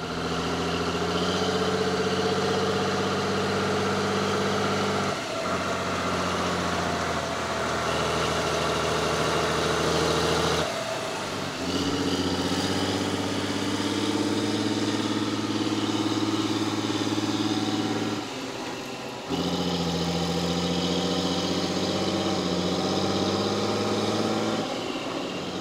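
A Fendt 615 LSA tractor engine idles steadily and loudly nearby, a constant low drone with two brief dips in level partway through, and no voices.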